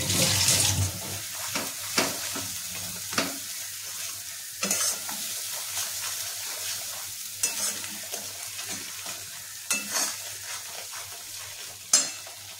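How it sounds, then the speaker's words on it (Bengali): Spice paste for parshe fish being stir-fried in a pan, a continuous sizzle broken by sharp scraping and stirring knocks every second or two, close and fairly loud with no voices. "এবারে আমি মশলাটাকে ভালো করে কষিয়ে নেব।"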